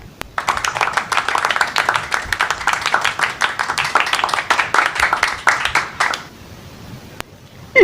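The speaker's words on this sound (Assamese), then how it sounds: "সকলোৰে হাত চাপৰি হ'ব লাগে" A small audience claps in a loud, fast, irregular burst of hands that runs for about six seconds, then stops abruptly, leaving quiet room tone and a final click.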